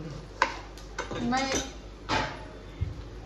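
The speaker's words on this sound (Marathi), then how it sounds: "मी भांडी घासते की" Pots, pans and steel dishes clatter and clink while being scrubbed and washed by hand in a home kitchen, with scattered knocks and scraping under a voice talking nearby.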